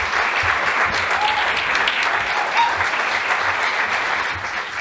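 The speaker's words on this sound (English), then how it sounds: "Continue the claps for yourselves." Loud, steady audience applause at a science talk night in Denver, a dense continuous roar of clapping lasting nearly five seconds before easing slightly at the end.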